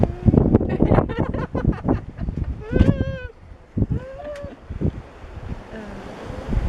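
Waves wash and surge beneath steady wind off the Baja coast, with a few voices calling out briefly over the rough water.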